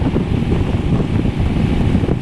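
Strong crosswind roaring across the microphone while riding through Kansas, a loud, continuous buffeting rumble with no break from start to finish.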